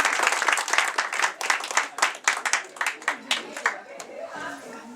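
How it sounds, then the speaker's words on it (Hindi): Clapping from an audience at a community appreciation event for performers and volunteers of an Indian cultural society in Auckland, with many dense hand claps that gradually thin out into scattered claps and chatter. "आप सब अपने लिए एक जोरदार तालियां।"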